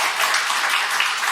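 A church congregation gives a short burst of steady, dense applause. Many hands clap together, evenly and fairly close, with no talk over it.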